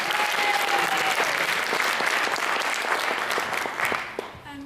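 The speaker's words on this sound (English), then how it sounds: "Can we have another big round of applause" Audience applause at a young poet laureate audition at the Library of Birmingham, dense sustained clapping that thins out and fades near the end, with a voice briefly audible as it dies away.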